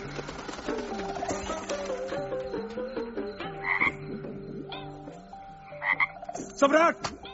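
Frogs croak in a dense chorus, several overlapping calls rising and falling in pitch, with sharper, louder croaks bursting out near the end.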